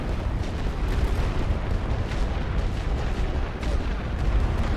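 Steady rumbling barrage of artillery fire and explosions on a World War I Verdun battlefield in The Great War: Western Front, a continuous dense roar of distant blasts with no talk.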